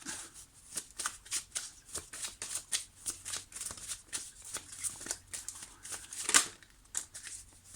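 Tarot cards are shuffled by hand in a steady run of soft, crisp riffling bursts, close and fairly quiet, with no talk over them.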